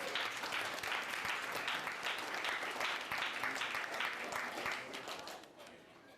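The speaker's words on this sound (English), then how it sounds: "a nice round of applause for Jordan Mueller and the kitchen staff" A banquet audience at a school fall sports celebration gives a round of applause, dense, steady clapping from many hands that holds evenly for about five seconds, then thins and fades toward the end.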